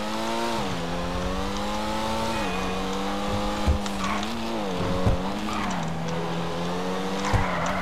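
A Pfister Comet SR sports car in GTA V drives hard, its engine droning steadily with rising and falling revs through gear changes, plus short tire squeals and thumps, loud and continuous.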